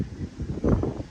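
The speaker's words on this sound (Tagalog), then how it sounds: "Sobrang lakas ang hangin din Grabe." Strong wind roars across the microphone outdoors in a short burst of low buffeting gusts that swell toward the middle, close and fairly loud, with no speech.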